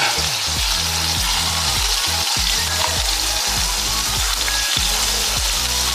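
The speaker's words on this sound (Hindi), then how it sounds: "4 टेबलस्पून मैंने ऑयल डाला है, ये अदरक की क्यूब्स डाल दी मैंने।" Ginger cubes frying in oil for chicken macaroni, a loud continuous crackling sizzle with rhythmic stirring thumps under it.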